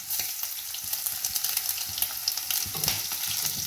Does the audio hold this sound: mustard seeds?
yes